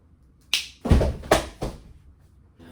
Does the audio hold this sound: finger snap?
yes